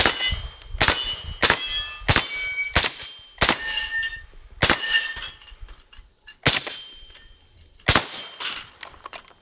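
FN SCAR rifle rounds striking steel targets, each hit a sharp ringing clang; about nine impacts in irregular bursts, loud and close with metallic decay between shots.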